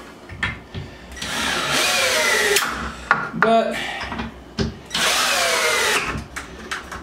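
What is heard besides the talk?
power drill driving screws during bunk bed assembly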